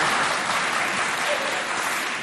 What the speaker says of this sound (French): Bon, applaudissez parce que